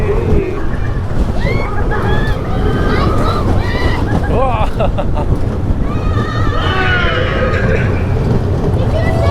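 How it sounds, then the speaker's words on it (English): Mack Rides family roller coaster with LSM launches, heard from onboard as loud rushing wind and rumble mixed with riders' screams and cheering throughout, with voices close to the mic. "The Mack Rides Family Coaster."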